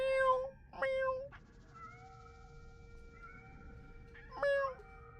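A person imitates a cat meowing with several drawn-out, pitched meows, close and clear, separated by quieter tonal background sounds.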